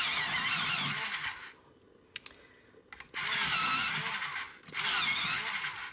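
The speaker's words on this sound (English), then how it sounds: "going to do some sharpening" An electric sharpener grinds down a coloured pencil in three short bursts of high, buzzing whirr, separated by quiet pauses with faint clicks.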